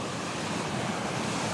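Strong wind buffeting a forest in the mountains ahead of heavy rain, heard as a steady, loud broadband roar with gusty rushing close to the microphone, alone with no voices.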